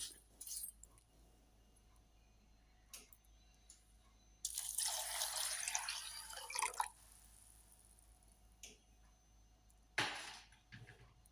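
Water pours into a pot of green gram in a few separate bursts, the longest a rushing splash lasting a couple of seconds, with quiet gaps and small clinks between pours.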